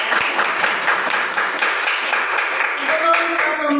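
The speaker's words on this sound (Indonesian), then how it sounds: "tepuk tangan buat Pak Tir" Classroom applause for a teacher, a burst of students clapping together, loud and close, with voices rising near the end.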